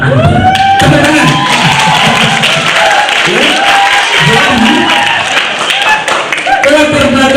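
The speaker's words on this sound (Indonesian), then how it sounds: "Tepuk tangan" An audience of students at a high school scholarship event applauds, with a dense, loud burst of clapping and crowd noise, while a voice on the public address system speaks over the applause.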